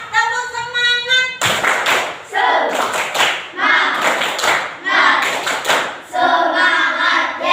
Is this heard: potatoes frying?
no